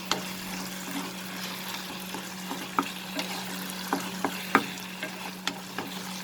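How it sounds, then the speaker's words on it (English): Tomato and onion sautéing on a high flame, a steady low sizzle with a constant hum beneath and regular sharp scrapes and knocks of a spoon stirring the pan, close and without talk. "we will keep sauteing this and cooking till it starts leaving oil"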